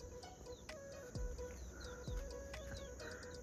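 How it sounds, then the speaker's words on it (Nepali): Many small birds chirp at a mountain home, with quick high tweets and short calls scattered through a faint, quiet outdoor background and no speech. "फुच्चे चरा चाहिँ एकदम ज्यादा छ यहाँ"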